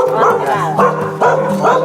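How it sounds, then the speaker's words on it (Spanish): A small pet dog yips and barks in a few short bursts at a rural property, close and loud, mixed with people talking over it. "Ah, es su perrito, ¿cómo le va?"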